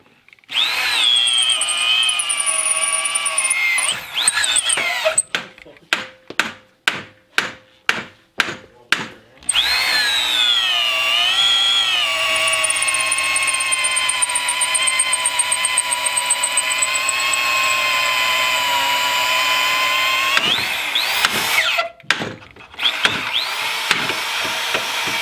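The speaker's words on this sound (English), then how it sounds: "then we're going to get it into the vise over here and drill that out" Drilling out a Dodge steering pitman arm clamped in a vise with a 3/4 inch tapered bit and cutting oil: a loud, sustained whining drill grind with shifting pitch, broken midway by a burst of rapid on-off pulses, then steady grinding again.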